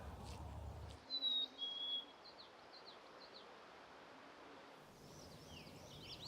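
Three American redstarts sing among a row of flowering trees near water, their high thin phrases faint and distant, with short bright notes repeating over steady outdoor ambience.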